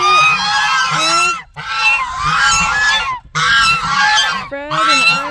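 Domestic geese honking loudly and close on a snowy morning, repeated harsh nasal calls in bursts with short gaps, several birds overlapping.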